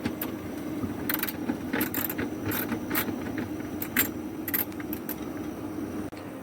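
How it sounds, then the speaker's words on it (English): Screws or bolts come out of a noisy Kenmore fridge, with a ratcheting, clicking tool working in short bursts over a steady low mechanical hum. "you're going to want to remove these two screws, or bolts in there"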